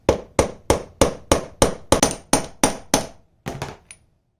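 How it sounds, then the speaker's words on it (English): A socket is tapped with a hammer to press a gear into an ATV transmission during a rebuild: about a dozen sharp metallic knocks in a steady rhythm, close and loud, then a few lighter taps at the end. "I'm just going to take a socket here and give her a few taps and press her in"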